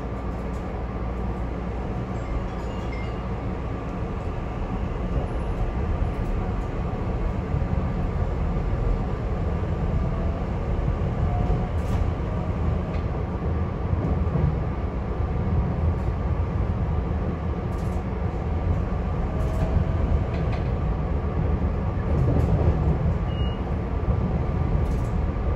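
A SEPTA Regional Rail airport line train runs steadily toward Center City Philadelphia, a continuous low rumble and rolling wheel noise with faint squeaks, constant and close throughout.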